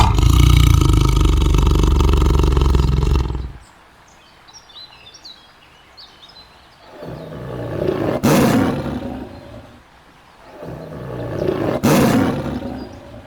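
A tiger lets out a loud, sustained roar up close, followed by a quiet stretch with faint bird chirps, then two more rumbling roars that swell and fade.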